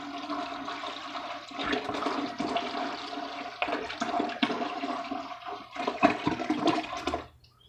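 Apple juice pours steadily into a bucket while making cyser, a continuous rushing, splashing liquid sound that stops abruptly at the end.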